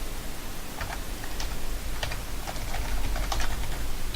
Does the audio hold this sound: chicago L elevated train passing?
no